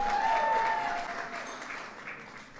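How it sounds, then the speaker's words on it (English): A crowd at a White House Cinco de Mayo reception claps in sustained applause that gradually thins and softens, with a faint whistle near the start. "Give him a big round of applause."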